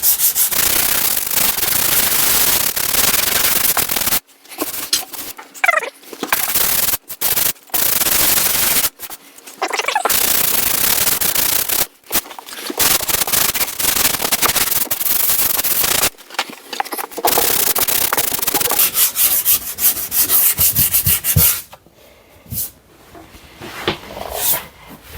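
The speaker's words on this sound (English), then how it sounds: "All right, we're done with sanding." Harsh, scratchy strokes of sanding a drywall patch rasp in long bursts, broken by brief pauses, close and loud throughout.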